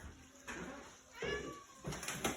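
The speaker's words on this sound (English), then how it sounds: "you might hear Mrs. G's kitty in the background. He's wanting his dinner, but he has to wait" A hungry house cat meows for its dinner in the background, giving several short, faint, rising cries, one after another, in a quiet kitchen.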